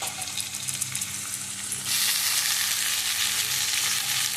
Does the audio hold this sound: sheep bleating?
no